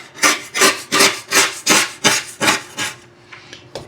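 Crusted, hard deposits are scraped off a 180-gallon aquarium's lid in about eight loud, rhythmic rasping strokes close by, tapering into a few softer scrapes at the end.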